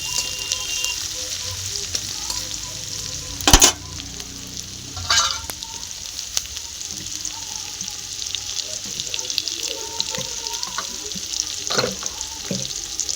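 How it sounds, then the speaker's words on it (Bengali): Spices with chopped garlic, ginger and black cumin sizzle steadily in hot oil in a pan, a constant bright frying hiss broken by a few louder stirring scrapes. "এটাও ভালো করে এখন মশলাটাকে ভেজে নেব।"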